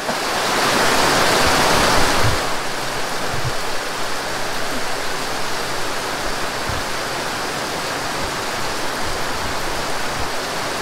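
Heavy rain pours steadily at Lake Sebu in South Cotabato, a dense loud hiss that swells briefly at the start and then holds constant, with no voices.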